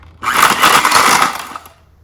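An immersion blender whirs through molasses cookie dough in a kitchen, a loud, gritty motor burst lasting just over a second before it cuts off, with no talking.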